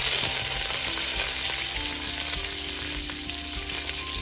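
Fennel seeds, two dried red chillies and torn curry leaves fry in hot oil in a pan, a steady close crackling sizzle with brief pops, continuous and fairly loud, no talking.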